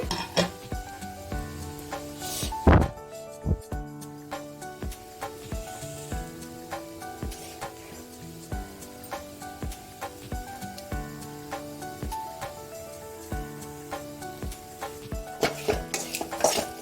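Onions fry in a pan while clinking stirs and scrapes recur, with a soft steady sizzle underneath, part of a cluster bean (gorikayi) palya, and nobody speaks.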